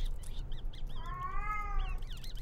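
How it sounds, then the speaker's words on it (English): A cat cries with a single drawn-out, plaintive meow in the middle, fairly faint against low background rumble, with no talking. "It might be a cat crying"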